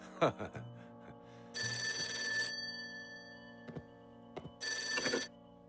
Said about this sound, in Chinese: 军座电话。